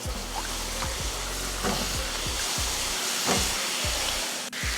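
Cut potatoes sautéing in oil in a pan for a Tamil potato and pea fry, with a steady close sizzle and repeated scraping stirs about every half second.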